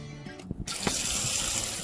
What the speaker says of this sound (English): so now I'm just gonna go ahead and turn on the water